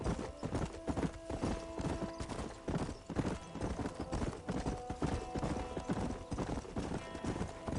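Horse hooves clip-clop steadily in Red Dead Redemption gameplay on PS4 near the town of Blackwater, a brisk rhythmic trot with creaking tack over ambient game sound.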